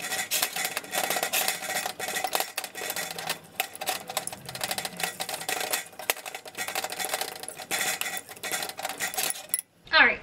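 Chickpeas mashed in a bowl with a utensil, giving a dense run of rapid scraping, clicking and squishing strokes that continue almost without pause, close and fairly loud, then stop abruptly at the end.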